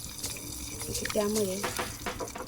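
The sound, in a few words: sugar water poured into dhokla tempering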